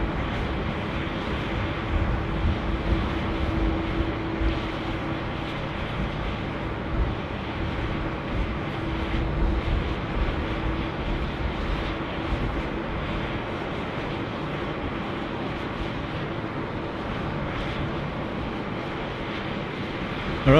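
An airplane at Sydney Airport gives a distant, steady broadband rumble and roar that holds for the whole stretch, with faint radio chatter in the background.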